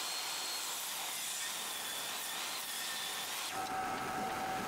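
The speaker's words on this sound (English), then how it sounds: "I resaw it into 2 boards of the same thickness." Steady, loud rasping of a saw resawing a pallet hardwood board into two thinner boards, continuous throughout, with a brief shift in tone near the end.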